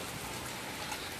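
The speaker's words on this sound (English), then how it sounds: "Yeah, it's a rainy day, y'all." Steady rain falls on a rainy day, a dense even hiss of drops on surfaces, soft and continuous without any talking.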